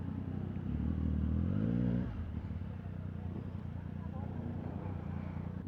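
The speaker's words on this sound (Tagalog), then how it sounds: "Drive ko lang yung motor." A Triumph Street Triple RX motorcycle engine revs with a rising, loud drone for about two seconds, then settles into a lower steady rumble while people talk over it.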